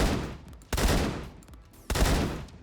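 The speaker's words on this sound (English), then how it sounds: "the 3-round burst 1000 RPM shotgun" A three-round-burst shotgun in the Phantom Forces shooter game fires two loud, booming bursts about a second apart, each with a sharp onset and a rolling decay, with no talking.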